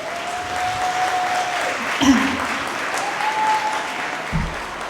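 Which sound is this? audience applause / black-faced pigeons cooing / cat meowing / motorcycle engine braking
audience applause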